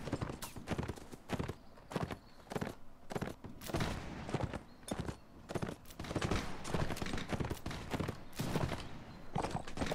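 Musket gunfire in a Mount & Blade: Warband battle, heard as a dense, irregular run of sharp cracks and pops mixed with galloping hoofbeats throughout, moderately distant and fairly quiet.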